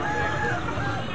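Bakok chickens at a busy market in Kalisat give a rooster-like crow and clucks over a steady murmur of crowd noise.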